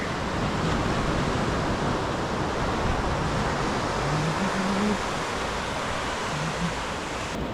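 Steady broadband wash of surf at Devbag beach in Malvan, a continuous roar of waves with no distinct breaks, fairly loud and close throughout.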